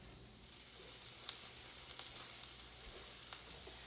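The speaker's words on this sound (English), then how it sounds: "add your cut okra to the pan. Let it brown on either side about 3 minutes." Cut okra browning in hot avocado oil in a pan, giving a steady close sizzle with scattered small pops and crackles throughout.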